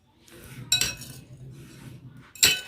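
Spoon stirring escabeche sauce of milk and vinegar for Waray-style fried tilapia, giving soft scraping with two sharp clinks against the dish, close and alone.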